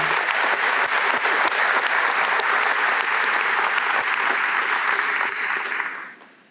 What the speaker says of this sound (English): Can we give one more round of applause to John Moore?